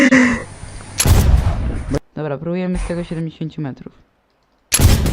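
Gunshots from a new weapon in Fortnite, a loud booming shot at the start and another at the end, with someone talking in between.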